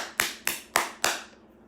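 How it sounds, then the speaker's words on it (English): Four sharp claps of palms struck together, evenly spaced in a steady rhythm, close and crisp, each with a short decaying tail and no talking. "Now clap your hands together"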